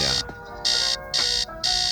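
An alarm clock beeps loudly in repeated bursts, about four evenly spaced shrill pulses, over a busy backdrop of music and room noise.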